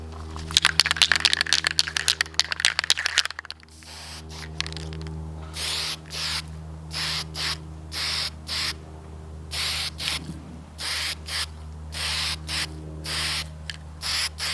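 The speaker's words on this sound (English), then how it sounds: "take our warmed up can of Brownell's Aluma-Hyde, shake it up a little bit and get spraying" An aerosol can of Brownell's Aluma-Hyde coating rattles quickly as it is shaken, then sprays in a series of short, regular hissing bursts while dirt bike parts are coated.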